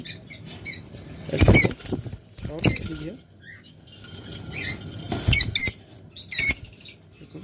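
Pairs of caged lovebirds give bursts of sharp, close chirps and squeaks, several clusters of calls separated by short quieter gaps.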